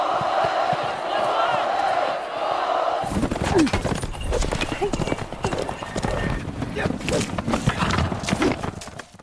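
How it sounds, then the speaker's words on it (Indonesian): Horses galloping during a polo match in a film, a rapid clatter of hooves that bursts in loudly after a quieter opening, with crowd noise and voices mixed through the action. "kuda yang dinaiki Yuhuan berlari tak terkendali"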